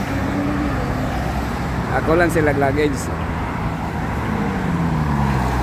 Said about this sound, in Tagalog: Grabe ka traffic diri sa Nazaret